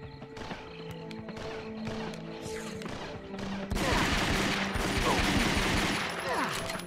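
Sniper shots ring out in the Ghosthunter video game, sharp and fairly close. A denser barrage of gunfire and noise takes over partway through.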